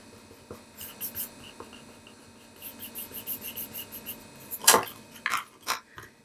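Vinyl being rubbed down onto a coaster for a Christmas craft: soft, scattered scratchy strokes at close range, with a sharper brief scrape or tap near the end and no talking.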